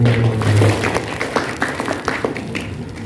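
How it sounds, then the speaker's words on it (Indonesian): A small audience at a religious talk show claps in a short burst of scattered, uneven hand claps. The claps are moderately loud and thin out toward the end. "Tepuk tangan dan tepuk tangan."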